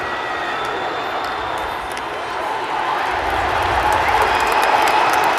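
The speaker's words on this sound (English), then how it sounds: "Crowd appreciating the defensive effort here." Crowd applauding and cheering at a Harvard vs Syracuse NCAA first-round college lacrosse game, a steady wash of distant stadium noise that swells slightly over several seconds.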